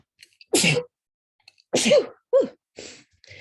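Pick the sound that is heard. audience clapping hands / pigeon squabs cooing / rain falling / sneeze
sneeze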